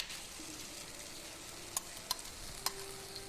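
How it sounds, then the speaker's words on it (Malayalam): Tomatoes going into softened onions in a pan for Malabar-style prawn roast: quiet steady sizzling with a few crisp spoon taps and clicks, close but faint, no speech. "ഇനി നമുക്കിതിലേക്ക് തക്കാളി ചേർത്ത് കൊടുക്കാം"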